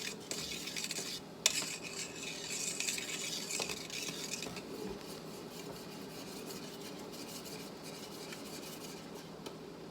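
A spoon scraping and stirring inside a pot of redbud brew heating toward a boil, steady metallic rubbing and clinks with a faint bubbling hiss underneath.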